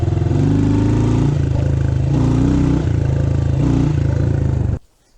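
A fuel-injected Honda CRF110 motorcycle runs close and loud with a steady, smooth engine putter that rises and dips in pitch, then cuts off abruptly near the end.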